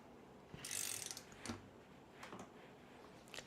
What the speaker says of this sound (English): gently move the torque wrench